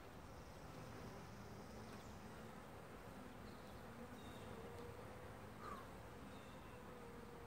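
Honeybees buzzing around an open hive during a Cape Cod beekeeping inspection: a steady, faint, dense hum of many insects, continuous and close, with an occasional single bee passing nearer.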